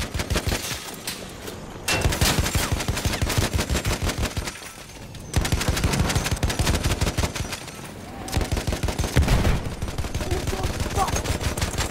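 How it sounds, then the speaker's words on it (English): Rapid machine gun fire in the World War I shooter Battlefield 1, fired from an airship in long sustained bursts of sharp evenly spaced shots, loud and close, with brief pauses between strings. "Enemy machine gun sighted!"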